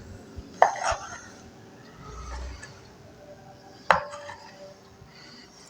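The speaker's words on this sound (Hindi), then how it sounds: "इसको मैं छोटे छोटे साइज़ में क्यूब में बहुत छोटा छोटा काटूंगी" Raw chicken, about 100 grams, is cut into very small cubes with a knife. Two sharp, separate knife strikes land on the board against a quiet background.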